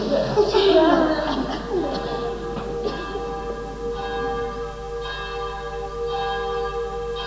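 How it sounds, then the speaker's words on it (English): Church bells peal beside a home, a loud clangour of overlapping strikes at first that settles into a steady ringing with sustained, lingering tones. "set off by the pealing of the church bells next to her home"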